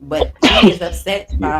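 A single sharp sneeze bursts out mid-conversation between people talking casually, close and loud, with speech continuing right before and after it.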